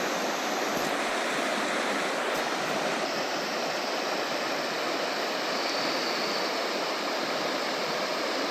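Steady, broadband rushing of a river flowing beneath a bridge on Vancouver Island fills the whole clip, a constant loud wash with no voices.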